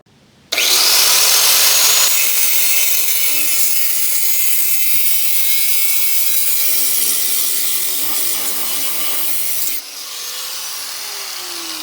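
Power saw blade cutting through a rusted exhaust flange on a 2015 Subaru Impreza, a loud, close, continuous harsh whine and grinding rasp lasting about nine seconds before the cut stops abruptly and a fainter tail remains.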